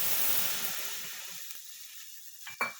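Mustard paste and green chillies hit hot oil in a pan, giving a loud burst of sizzling that fades to a faint hiss, with a couple of small clinks near the end.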